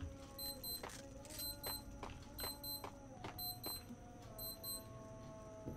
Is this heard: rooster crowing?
no